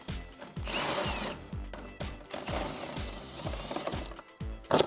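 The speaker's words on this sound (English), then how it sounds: "Grab your 10 socket and extension and get these off." Cordless power tool driving a 10mm socket on an extension to remove bolts from the front bumper trim of a 2013-2018 RAM 1500, in repeated short whirring bursts that wind down between pulls, close and loud.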